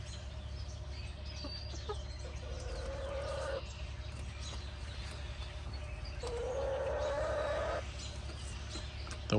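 Backyard chickens cluck and murmur softly at a distance over steady low outdoor background noise, with two drawn-out rising calls standing out.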